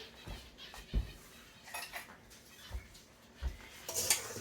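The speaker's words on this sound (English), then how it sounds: "Grab a spoon" A spoon stirs fries coated in spices, black pepper and olive oil, giving a few soft, scattered clinks and scrapes against the dish, quiet and close with no talk.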